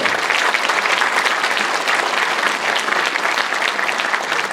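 Steady, dense applause at an inauguration ceremony for the new president of the Sejong City sports council, as the council flag is handed over; full crowd clapping continues evenly, loud and close, with no talk.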